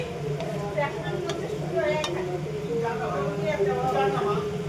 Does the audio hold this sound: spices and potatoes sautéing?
yes